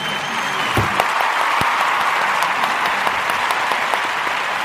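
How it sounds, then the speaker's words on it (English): An audience claps for Allie in a burst of steady, dense applause that keeps an even level throughout, with a few sharper individual claps standing out. "Give an applause for Allie."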